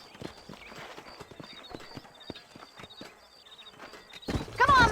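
Horses clip-clopping in the video game Red Dead Redemption, with irregular hoof beats and occasional snorts over quiet ambience, then a louder neigh or whinny bursts in at the end while a voice talks briefly.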